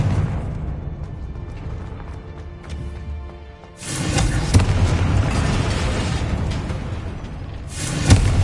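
A Confringo blasting spell in Hogwarts Legacy bursts into a loud, broad explosion partway through, following a quieter rumbling stretch, with a second sharp blast near the end.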